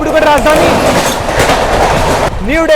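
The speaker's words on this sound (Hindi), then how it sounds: "डिब्रूगढ़ राजधानी एक्सप्रेस वाया मोरनहाट आती हुई" Dibrugarh Rajdhani Express arriving via Moranhat, with steady rolling rumble and clickety-clack of the wagons passing close and loud, a high wheel squeal rising near the end, and a voice talking over it.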